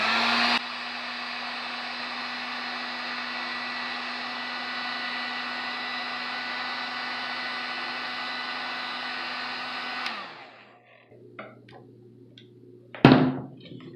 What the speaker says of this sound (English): I'm going to use my Drill Master heat gun to go ahead and heat this up